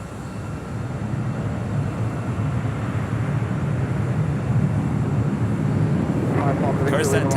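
An airplane taking off from runway 24 left at Los Angeles International Airport, a loud, steady jet roar that builds slightly, with brief higher noise at the end.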